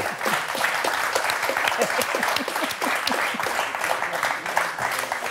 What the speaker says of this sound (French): 9 sur 10, ça s'applaudit.